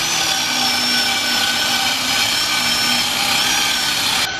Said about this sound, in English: he is using a bristle brush to take down the silicone, but it's gonna get down to the bare metal